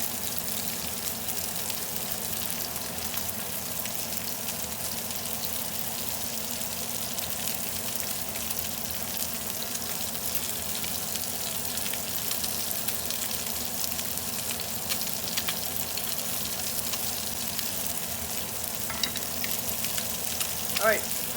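Cod sautéing in a pan, a loud, even, continuous sizzle and crackle that holds steady throughout, with no talking.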